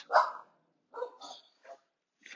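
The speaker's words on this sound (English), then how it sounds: "apologies, that's my dog." A dog barks indoors during a home workout session, one sharp loud bark followed by several shorter, softer yips and whimpers spaced irregularly, with no talk over them.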